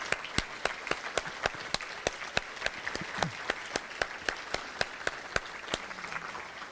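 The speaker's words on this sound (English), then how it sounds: "let's give them a round of applause" An awards ceremony audience gives a round of applause, with distinct claps from a modest crowd ringing out at a quick, steady rhythm in a reverberant hall for several seconds.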